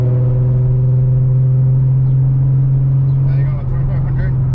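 A Nissan 370Z Nismo idling and running at light throttle, a steady low droning hum with a strong constant tone, close and loud, with faint speech near the end.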